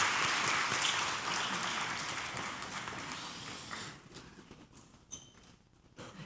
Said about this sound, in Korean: 우리 교사들을 위해서 크게 박수로 축복하겠습니다